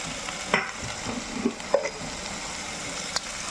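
Okra with onion and green chili being sautéed for vendakka mappas, with a low sizzle in the pan and a few sharp scrapes and taps of a spoon, close and fairly quiet.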